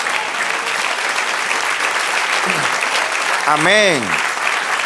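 Church congregation applauding in a worship service, sustained crowd clapping throughout while a voice speaks over it near the end.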